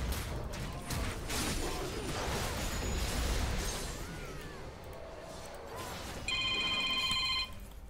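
Telephone ringing during a League of Legends gaming session, a repeated electronic ring near the end standing out over game effects and busy background sound.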